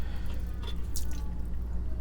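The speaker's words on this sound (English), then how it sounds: "the water is still coming out" Water keeps dripping and trickling from a disconnected toilet supply line in a house basement, a steady close-up patter of drops with a faint splash partway through.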